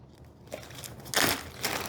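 A clear plastic bag crinkles and crunches up close in a few bursts, with the loudest rustle in the middle and no talk.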